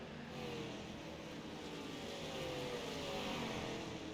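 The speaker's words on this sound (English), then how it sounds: "as Grandpa does everything he can to get some speed out of that Thunder Valley Racing car" A steady, droning late model dirt race car engine from a sim racing game sounds at moderate level, with rising engine pitch and other cars buzzing around it in a continuous roar.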